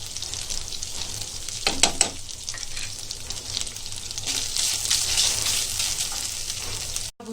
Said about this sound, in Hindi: अभी ये खोपरे को भूनेंगे।